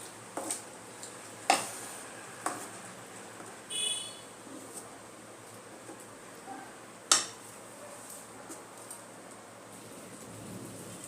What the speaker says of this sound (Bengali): মাংসের মধ্যে ভালো করে মশলাগুলো মিশিয়ে নেব।